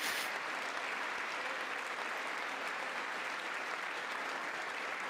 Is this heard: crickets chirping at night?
no